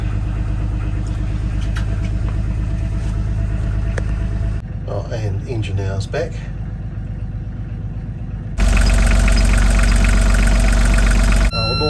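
Repaired starboard engine on a sailing catamaran starts and settles into a steady low idle, with a loud, dense mechanical rumble rising sharply near the end, while a person talks over it.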